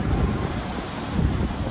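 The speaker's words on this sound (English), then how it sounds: "I always like how the water comes in and just hits one concrete barrier after" Waves wash against a concrete barrier at the beach, making a continuous broad roar of surf and water with heavy wind rumble and no clear breaks.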